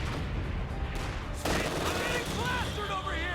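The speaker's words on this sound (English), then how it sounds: "Instantly getting killed by machine guns that's going to chase me." Machine gun fire in Company of Heroes 2 crackles in rapid distant bursts over a steady battle rumble, with a sudden louder burst partway through and whistling tones near the end.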